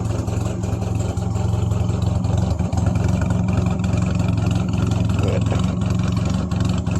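A British car idles unevenly with an out-of-tune carburetor and its smog equipment removed, giving a loud, steady, close engine drone with a slightly lumpy pulse throughout.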